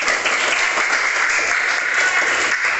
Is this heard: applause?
yes